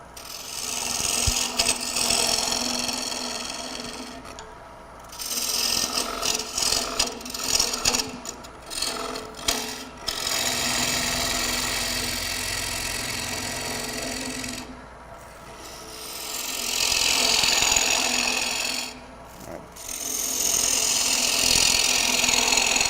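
A wooden bowl's interior is turned on a lathe during a live turning demonstration, the gouge making a continuous scraping, rasping cut that swells and drops with short pauses, loud and close.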